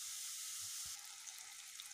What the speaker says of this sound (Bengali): পেঁয়াজটা এখন ভালো মতন ভেজে নিচ্ছি।